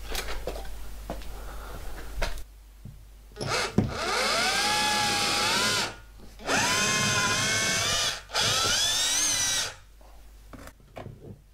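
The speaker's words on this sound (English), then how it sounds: "that's where you get the most efficient hammer action coming out of the SDS" An SDS hammer drill runs in three long, loud bursts with short pauses between them, its pitch shifting as it bites in, after some brief handling noises, during radiator plumbing work.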